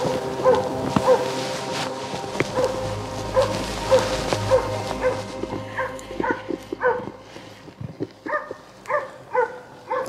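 A moose-hunting dog bays repeatedly in a thinning forest, its rapid, rhythmic barks and yips carrying from a moderate distance, steady through the stretch with occasional whimpering tones and outdoor background noise.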